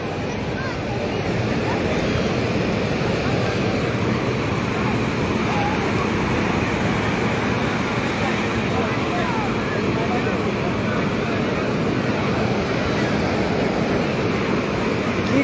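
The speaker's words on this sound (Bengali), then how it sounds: "বাধাহীনভাবে আসতেছে ঢেউ আর ঢেউ।" Sea waves break on a beach in a continuous, loud roar of surf that stays steady for the whole stretch, with some wind noise and people nearby.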